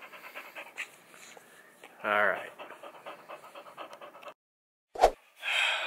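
A dog sitting on a lap pants rapidly and close up in quick rhythmic breaths, with a person speaking briefly between the panting.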